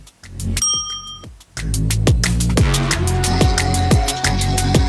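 Bicycle bells ring over and over in a busy flurry of bright, overlapping dings on a Brighton street, loud and close, with no talking.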